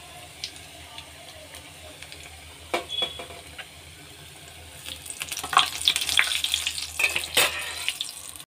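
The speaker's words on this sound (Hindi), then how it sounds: "अभी मैं इसको ऑयल में छोड़ रही हूँ और इसी तरह से ना पूरा फ्राई होगा।" Food is dropped into hot oil on the stove, a soft sizzle with scattered crackles that swells and grows busier and louder in the second half.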